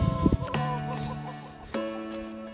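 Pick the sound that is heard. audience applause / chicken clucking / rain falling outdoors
chicken clucking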